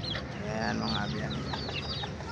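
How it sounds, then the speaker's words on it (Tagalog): A flock of one-month-old chicks out in the sun peeping and cheeping steadily, a dense overlapping chorus of high chirps close by with faint clucking mixed in, no talk. "Yan yung ating mga 1 month old na mga sisiw"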